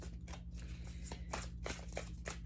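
Tarot cards being shuffled by hand, a run of quick soft riffling bursts close up over a low steady hum.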